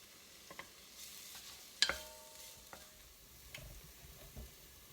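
Onion browning in a pan, a faint, low sizzle broken by occasional soft stirring scrapes and one sharper clink of a utensil.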